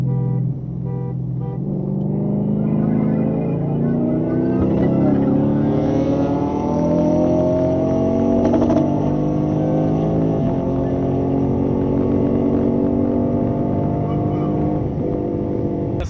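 Steady engine roar builds and holds as a supercharged Lexus IS 350 and a Lexus ISF accelerate hard in a roll race, revving through rising tones for the full stretch, loud and close.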